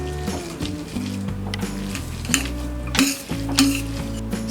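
Strained cooked dal being mashed in a pressure pan for puran poli, with steady scraping and clinking of a utensil against the metal pan and a soft continuous sizzle, close and without talk.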